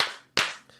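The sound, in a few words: two hand claps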